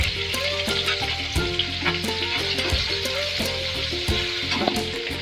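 Chopped tomatoes and turmeric frying with green chillies in a pan for a spring onion vegetable dish, a loud continuous sizzle with scraping stirring clatter throughout, close and without speech.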